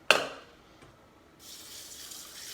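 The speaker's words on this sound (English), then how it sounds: "soak it in spring water" Spring water poured over wild rice to soak it, a splashy tap-like pour that starts with a sharp burst, dies down, then returns as a steady, faint hissing stream filling a container, with no talk.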